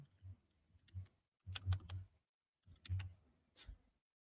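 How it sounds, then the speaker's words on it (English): Typing a password on a computer keyboard: quiet, close clusters of key clicks in three or four short bursts separated by brief pauses, with no voices. "I'm typing my password for that machine."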